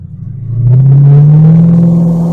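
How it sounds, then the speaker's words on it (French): A 2006 Ford Mustang's engine revs hard under throttle, a loud deep rumble climbing steadily in pitch and holding strong, heard up close with no talking. "je fous un coup de gaz en ayant le volant tourné, elle dérape"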